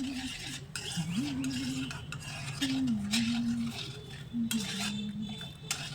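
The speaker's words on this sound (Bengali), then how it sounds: "2-3 মিনিট নাড়াচাড়া করে ভালো করে ফুটিয়ে নিলেই কিন্তু রেডি হয়ে যাবে আমাদের জেলি" Jelly powder being stirred and boiled in water in a pot, with a close scraping, swishing spoon sound, a gentle bubbling sizzle and a faint tonal hum running underneath.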